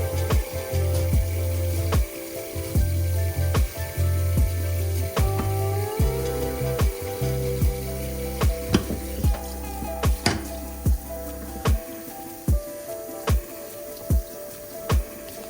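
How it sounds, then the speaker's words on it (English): Water splashes and drips as wet hair is wrung out by hand, with a low rumbling squish under repeated sharp, sporadic droplet taps and splatters close by. "I wring out the hair to get as much as water out as possible"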